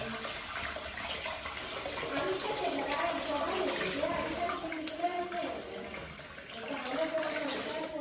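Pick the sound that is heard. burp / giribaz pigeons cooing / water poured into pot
water poured into pot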